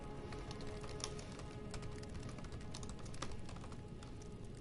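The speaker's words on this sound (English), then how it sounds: "And I can actually type with this one, so I can go a little faster." Rapid typing on a computer keyboard, a steady run of dense, close clicking keystrokes with no pauses, heard alone throughout.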